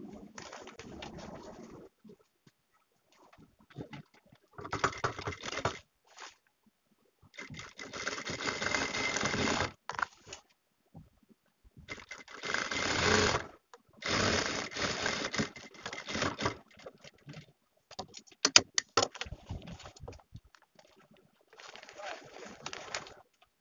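A sewing machine stitches kameez fabric in several separate runs, each lasting a few seconds, with quiet gaps between them. The bursts come through close and fairly steady.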